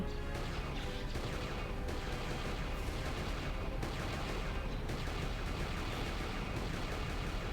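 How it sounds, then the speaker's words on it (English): Heavy cannon fire in the Knights of the Old Republic 2 video game as a Sith is cut down, a dense continuous barrage of loud booming blasts and crashes filling the whole stretch with no pause. "We're just killing this Sith here with the cannon"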